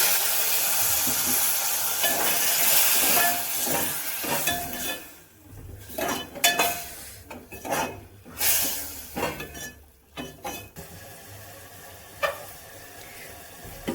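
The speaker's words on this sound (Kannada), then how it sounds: "ಒಂದು ಸ್ವಲ್ಪ ನೀರನ್ನು ಸೇರಿಸ್ಕೊಳ್ತಾ ಇದ್ದೀನಿ." Fenugreek leaf dal in a pan takes a splash of added water, heard as sizzling and hissing steam mixed with stirring scrapes and utensil clinks, rising and falling in uneven bursts.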